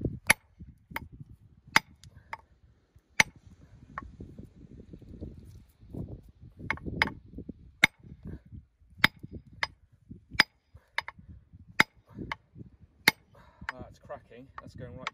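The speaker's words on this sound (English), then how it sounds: "So I get a really good sharp crack with the hammer and split down through this Ammonites bodleii block." A hickory-handled hammer strikes an ammonite rock block on the Jurassic Coast west of Lyme Regis, giving a series of sharp, bright cracks at irregular intervals with low rustling and handling noise between blows.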